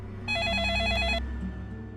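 A telephone ringing on an outgoing call to a police station, one short electronic ring tone lasting about a second, fairly close, followed by a low steady background hum.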